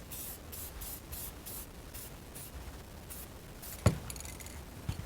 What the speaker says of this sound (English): black spray paint.